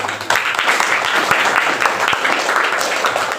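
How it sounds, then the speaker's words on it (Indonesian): Classroom applause, with students clapping together in a continuous, lively burst that fills the short span at close range and has no talk over it. "Tepuk tangan kita semua."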